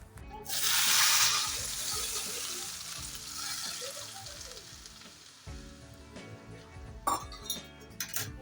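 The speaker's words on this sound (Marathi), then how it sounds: "तूप गरम झाल्यानंतर हे हलव्यावर टाकून घ्यायचं आहे" Hot ghee poured over carrot halwa (gajar ka halwa), a loud close burst of sizzling that rises at once and slowly fades, followed by soft stirring, scraping and a few metal clinks near the end, with no talking.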